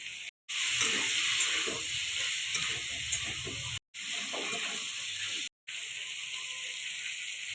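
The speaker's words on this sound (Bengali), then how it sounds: "ফুলকপি বেগুনগুলো দিয়ে দিচ্ছি।" Cauliflower and eggplant sizzle as they fry in a pan, making a steady, close hiss that breaks off briefly a few times.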